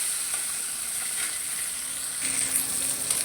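Fish frying in hot oil in a pan, a steady close sizzling hiss throughout with a slight rise partway, no voices.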